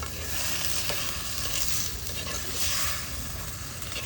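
Salted dried sea fish being stirred as it fries in a pan, a dense continuous sizzle with scraping stir strokes swelling and fading, loud and close with no talking.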